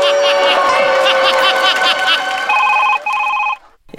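A phone ringtone sounds loud and close during a Marathi stage comedy sketch, a bright electronic melody of repeating tones lasting about three and a half seconds before it cuts off abruptly.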